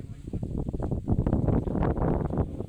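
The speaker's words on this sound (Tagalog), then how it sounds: "Mahangin. Sobrang hangin mga Lodi." Strong wind buffets the microphone at a mountain viewpoint in Tabogon, Cebu, in heavy, continuous low rumbling gusts, with a voice talking faintly underneath.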